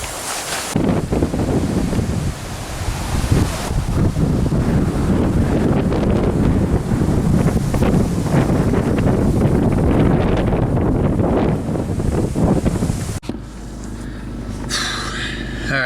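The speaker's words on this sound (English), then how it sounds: "It got really windy." Strong gusting wind outdoors ahead of a tropical storm, a loud continuous roar buffeting the microphone for most of the clip before dropping off abruptly near the end.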